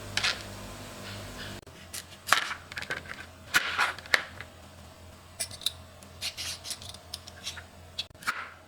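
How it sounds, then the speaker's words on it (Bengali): Capsicum being cut into pieces on a board while a pasta dish is prepared, giving a series of crisp, close cutting crunches and scrapes in irregular bursts with short pauses, no voice. "প্রথমে এখানে ক্যাপসিকামগুলো এভাবে কেটে নিচ্ছি।"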